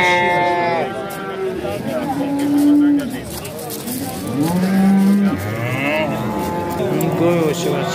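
Cattle moo repeatedly at a busy livestock market, several long, loud lowing calls overlapping amid constant crowd chatter and people talking nearby.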